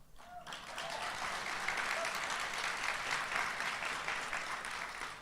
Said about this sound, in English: That was her husband that started the clap.